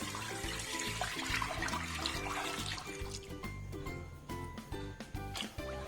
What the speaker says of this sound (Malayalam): അതിലേക്ക് 2 ലിറ്റർ പാലൊഴിക്കാം.